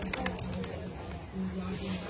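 Pigeons perched above a market give low, repeated coos close by, while people talk over them.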